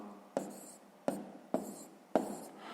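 Numbers being written by hand during a sixth-grade multiplication exercise, four separate scratchy pen strokes, each with a sharp onset that fades off, close and clear with quiet gaps between them and no voices.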